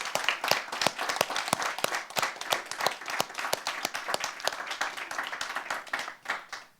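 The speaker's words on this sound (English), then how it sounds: "and an applause to you and the whole panel" A seminar audience applauding the panel, a thin, steady run of distinct individual claps from a small room of people, close and fairly even before tapering off at the end, with no voices over it.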